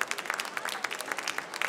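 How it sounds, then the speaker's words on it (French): An audience applauding a competitor at a coffee brewing competition, a moderate crowd clapping in quick, uneven rhythm, sustained and fairly close. "Je vous demande de l'applaudir encore une fois s'il vous plaît"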